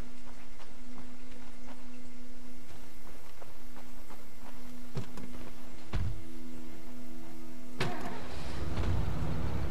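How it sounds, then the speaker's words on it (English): A modern pickup truck driving in State of Decay, a steady low engine drone with a constant hum, punctuated by scattered clunks and thumps, and a harder impact crash near the end, loud and close. "Good old modern pickup."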